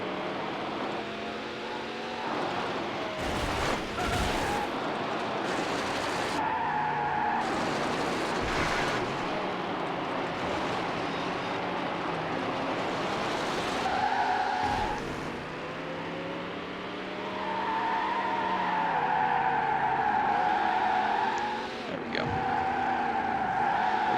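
Race cars, including Ferraris, roar through twisty corners in Need For Speed Hot Pursuit 2, a continuous loud engine drone with shifting revs, gear changes and occasional tire squeal throughout.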